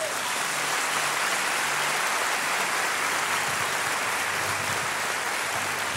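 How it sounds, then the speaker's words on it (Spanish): A congregation at a Christian worship service applauds loudly and without pause, a dense, even wash of clapping from many hands that sounds almost like heavy rain. "Démosle un aplauso a Jesús."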